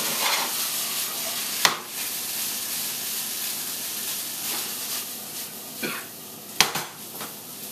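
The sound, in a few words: tossing fried rice with soy sauce in a pan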